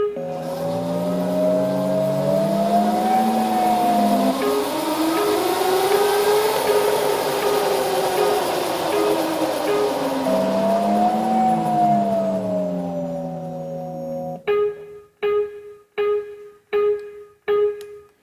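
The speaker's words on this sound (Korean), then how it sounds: "시속 3에서 40km 사이가 되면 주행 사운드가 나오고" DNA Motors eCiti electric motorcycle's artificial driving sound, a synthetic engine-like tone that rises and falls smoothly with speed, then changes to a crisp repeating turn-signal beep ticking about once per second near the end.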